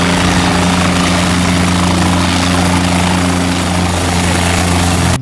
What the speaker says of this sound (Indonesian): Ini helikopter kecil.